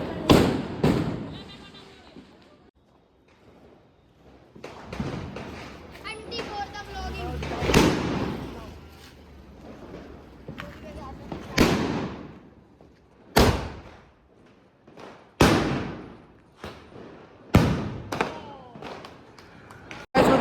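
Big sky shot firework fired during Diwali celebrations, a series of sharp loud bangs and booming bursts spaced out over time, with people talking and chatter in between.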